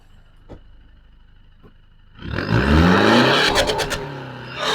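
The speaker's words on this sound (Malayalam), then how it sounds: "അപ്പൊ ആ എക്സോസ്റ്റ് നോട്ട് ഒന്ന് കേൾപ്പിക്കാവോ?" A stage 2 tuned Maruti Swift VDI Type 3 sits quietly at idle, then its exhaust bursts into a loud, rising rev that holds briefly before settling, close and without talk.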